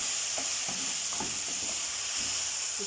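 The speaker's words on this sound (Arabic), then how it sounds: "هقلب بقى" Washed white rice stirred in a hot pan, with a steady frying hiss under soft, irregular scrapes of a spoon, close and brief.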